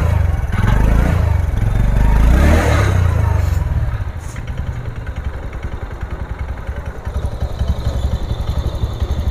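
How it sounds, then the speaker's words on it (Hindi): A TVS Ntorq 125 BS6 scooter engine revs loudly for a few seconds, then settles into a steady, close idle with a rapid, even putter. "तो गाइस अभी इसका जो RPM है परफेक्ट है, ज़्यादा भी नहीं है और कम भी नहीं है, ठीक है।"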